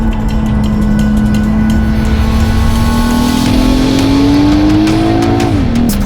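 A BMW 840i Gran Coupe engine pulls hard with a loud, steady tone that climbs in pitch as the car gains speed, then dips briefly near the end, over constant road and wind roar.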